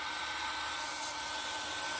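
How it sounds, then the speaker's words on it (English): Cooling fans on a Yokomo YD2 SXIII RC drift car whirring with a steady, fairly loud broadband hiss that holds constant throughout, close by with no talking. "as you can hear, with both of these fans running,"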